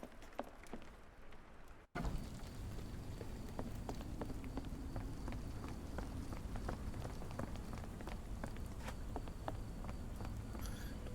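Steady rain pours down in Sherlock Holmes: The Awakened, a dense even hiss with scattered drop patter running throughout after a brief quieter opening.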